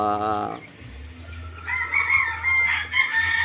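A Boston Golden Boy rooster lets out a drawn-out crow, loud and close, with a voice speaking around it and a low background hum.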